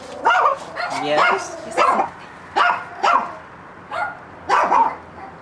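Dogs barking in a series of sharp, close yips and barks at an uneven rhythm, with people talking around and between them.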